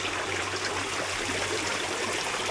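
Water flows steadily through a maze at Blackpool Pleasure Beach, a constant close hiss and trickle with a low hum beneath it.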